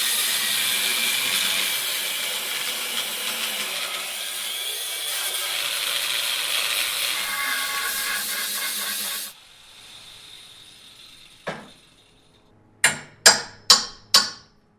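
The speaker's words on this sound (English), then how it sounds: "Take an angle grinder, choppity chop," Angle grinder cutting metal out of a car body for an intercooler fit, a loud steady hissing grind for about nine seconds, then a faint lull, one sharp clank and four quick loud bursts of cutting near the end.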